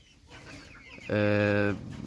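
A Cochin bantam chicken lets out a single loud, drawn-out call near the end, up close over a quiet barnyard background.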